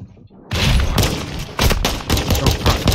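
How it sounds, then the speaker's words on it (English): Rapid bursts of gunfire in a video game, erupting after a brief quiet lead-in into loud, dense volleys with repeated sharp shots and heavy impacts, close and continuous throughout. "Someone shooting me from somewhere."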